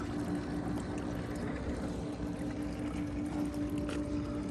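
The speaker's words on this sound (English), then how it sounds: "you're basically just going to let it drain some of the water out" Water pours and trickles steadily out of a Dolphin E10 robotic pool cleaner as it drains, a continuous close splashing wash at low volume with no speech.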